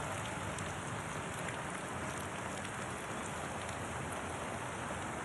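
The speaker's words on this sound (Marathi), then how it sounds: "बदलापूर परिसरातही मुसळधार पाऊस सुरू आहे" Heavy monsoon rain pours down steadily in Badlapur near Thane, making a dense, unbroken hiss with no voices.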